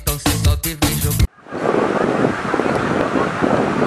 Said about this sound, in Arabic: الموج اليوم هادي ولا العادة دائما الموج هنا قوي في المدينة هادي